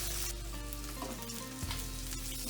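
Chicken breasts fry in a pan after being flipped, in a lemon and rosemary dish, giving a steady, loud sizzle that runs throughout with a low hum beneath and no voices.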